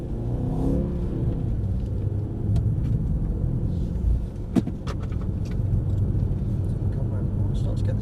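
A Mercedes C43 drives through turn 5 at the Mercedes World track, its engine a continuous close rumble with slight revving, and a voice talks over it.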